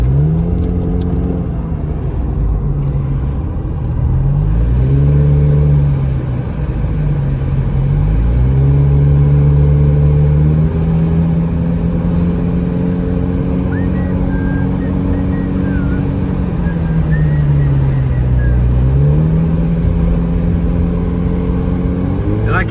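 A car's engine labours up a mountain highway toward Big Bear, rising and falling in pitch through gear changes in a steady, loud drone from inside the vehicle, with a voice talking over it at times.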